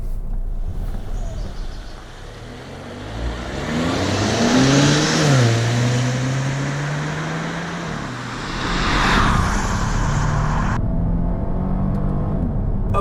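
Volvo V90 T6 all-wheel-drive wagon driven in dynamic mode, engine revving up through a rising pull then easing off, with road and cabin noise heard from inside the car, fairly loud and steady, no talk.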